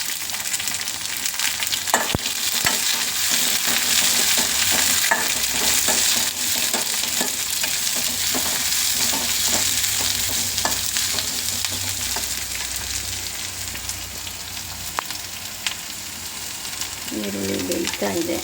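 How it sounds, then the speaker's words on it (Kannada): Onion frying in a pan for a ridge gourd stir-fry, a steady broadband sizzle with stirring scrapes running throughout, fairly loud and close, with a brief low clatter near the end. "ಈರುಳ್ಳಿ ಬೇಯ್ತಾ ಇದೆ."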